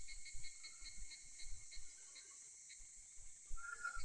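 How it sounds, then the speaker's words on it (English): Shrill, steady insect drone of cicadas from the Higurashi visual novel, a continuous high buzz with faint pulsing chirps running throughout, fairly quiet and unaccompanied by any voice. "All I hear is the cry of the cicadas."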